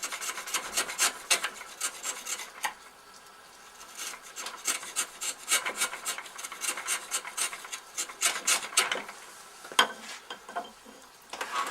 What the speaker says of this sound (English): cross a grain using the flat of the chisel again